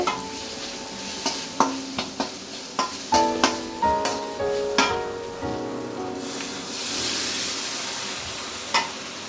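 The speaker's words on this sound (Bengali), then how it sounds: "আমি এই যে পেঁয়াজ আর কি বাদ মশলাগুলো সবগুলো মশলা দিয়ে সুন্দর করে কষিয়ে নিতেছি" Onions and spices fry in a pan, a continuous sizzle marked by a series of sharp metallic scrapes and clinks from stirring, near and fairly loud, with no one talking.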